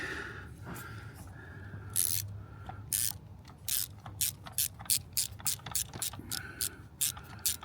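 Ratchet clicks tighten a spark plug on a 2018 Porsche Panamera 4S with a 2.9L biturbo V6, coming first as uneven pulls and then as a quicker run of sharp, evenly spaced clicks, close and fairly quiet.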